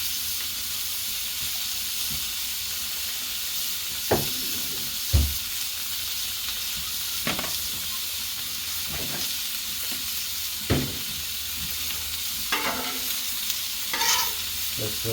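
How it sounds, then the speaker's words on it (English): Cheap minced garlic and onions sizzling on a Blackstone griddle, a constant loud hiss punctuated by several sharp spatula taps and scrapes against the flat top, no speech. "I've got a bit of garlic, cheap minced garlic."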